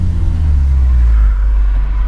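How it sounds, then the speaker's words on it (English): Audi RS3 five-cylinder engine rumbles loud and close in a deep, steady drone with slight rises and falls, as on downshifts, heard alone without talk. "look at those downshifts as well, man"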